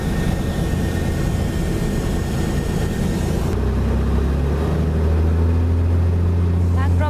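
A light aircraft engine drones loud and steady during the climb, its pitch shifting partway through, while an instructor talks over the cockpit noise.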